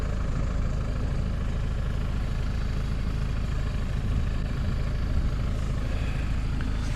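A tractor engine running steadily in a hay field, heard from inside the cab as a constant, loud low drone that stays even for seven seconds.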